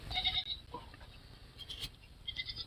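A herd of goats bleats outdoors, with several overlapping nasal calls at the start and again near the end, faint and somewhat distant against a quiet background.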